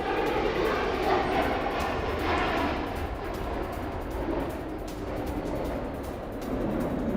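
An Su-35 fighter jet with failed landing gear makes an emergency belly landing, a continuous loud broadband roar and scraping rumble that holds steady for about seven seconds with no speech over it.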